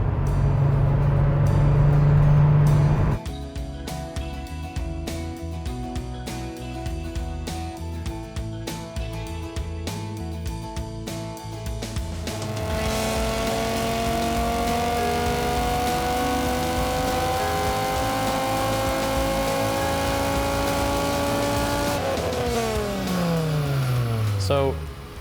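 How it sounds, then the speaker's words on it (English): An engine with a straight naturally aspirated intake manifold on The 850 Project car roars through a dyno pull. A loud idle drops into a steady drone, then the revs climb in a long sweeping rise before cutting off. "So we just did one initial pull on the dyno."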